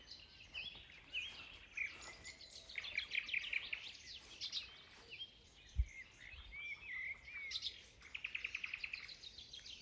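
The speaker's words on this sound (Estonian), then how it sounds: "Kuule, kuidas ööbik laaksutab." A nightingale sings in spring, bright rapid chirps and repeated trilled phrases close by, with one brief low thump midway and a quiet outdoor background.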